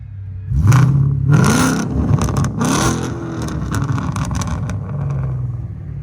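A 2012 Ford Mustang GT fitted with headers and a Bassani exhaust revs loudly nearby, with rising and falling engine pitch through several bursts before it settles back to a steady rumble.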